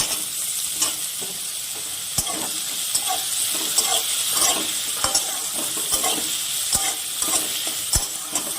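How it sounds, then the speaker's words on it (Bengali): Chopped onions and potatoes frying in oil give a steady close sizzle, broken by sharp taps and scrapes as a utensil stirs them against the pan at irregular intervals, with no talking. "এটাকে আমি একটু লাল করে ভেজে নেব।"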